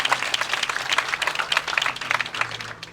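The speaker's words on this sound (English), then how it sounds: "let's give her a round of applause" A round of applause for retired teacher Marjorie Carter at an Emancipation celebration, sharp crowd clapping that rises and stays steady for a few seconds.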